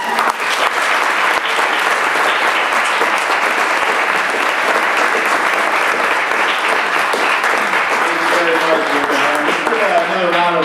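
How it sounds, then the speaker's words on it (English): Sustained audience applause at a spring release-party poetry reading, dense steady clapping filling the room throughout at close range. "Another round of applause for all of our readers."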